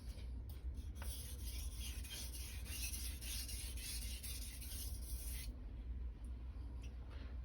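A blade edge being sharpened, a quiet repeated rasping and rubbing of steel on an abrasive, strokes in close succession and then a brief pause, with no talk.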